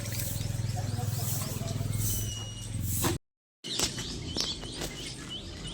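Sparrows chirp in short, high twittering bursts during early morning, scattered throughout behind steady background noise and voices, with a brief silent break partway.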